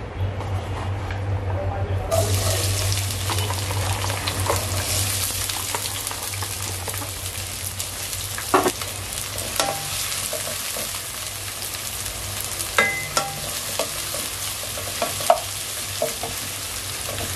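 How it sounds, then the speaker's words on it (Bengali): Onions fry in hot mustard and soybean oil, giving a dense, continuous sizzle with occasional clinks and scrapes from stirring. "পেঁয়াজগুলোকে ভালো করে ভেজে নিব ব্রাউন কালার করে"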